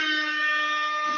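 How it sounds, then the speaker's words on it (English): One loud, blaring air horn blast holds steady for about a second. "another air horn"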